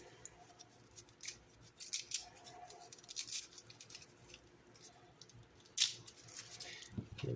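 A package is pressed until it tears open in a messy kitchen during meal prep, giving faint, scattered crinkling and tearing rustles in short bursts against a quiet room.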